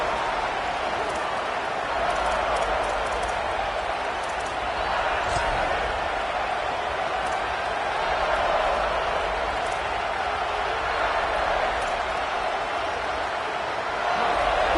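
Stadium crowd noise from an NCAA football video game forms a steady, dense roar that holds at an even level throughout, with a commentator's voice running over it.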